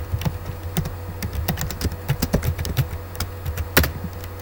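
Rapid, close clicking of a computer keyboard as Python code is typed, irregular keystrokes in quick bursts over a low steady hum, with no speech.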